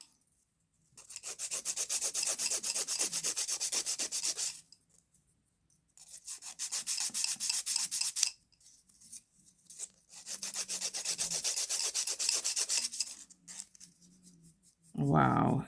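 A coarse hand file rasps steadily across acrylic nails in three long bursts of even back-and-forth strokes, close and dry, with a brief pause between passes and a short thud at the end.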